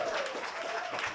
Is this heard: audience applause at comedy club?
yes